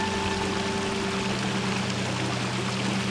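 A city waterfall: a steady, even rush of falling water that fills the whole stretch with constant broadband noise and no pauses or voices.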